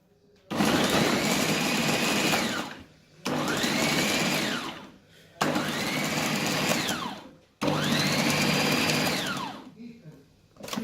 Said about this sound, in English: food processor.